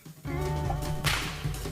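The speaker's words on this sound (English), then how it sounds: "the first man-made object to break the speed of sound is a whip." A whip cracks once, a sharp snap forming a small sonic boom, heard close and alone over a brief swishing rush.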